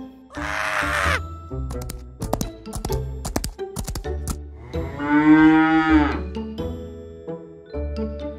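A cow lets out a long, loud, close moo, followed by scattered bright clicks and chimes and a second drawn-out bellow, with a brief cawing sound near the start.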